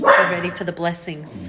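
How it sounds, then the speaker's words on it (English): A pet dog gives a few excited, yippy barks close by in a home while someone talks over them. "That's my dog. Excited about vanilla too."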